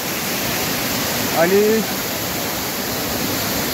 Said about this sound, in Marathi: इथून सुद्धा पाणी खाली वाहत आहे